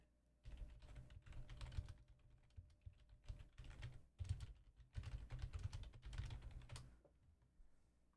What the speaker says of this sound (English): Forgot an E on the end of what I was typing.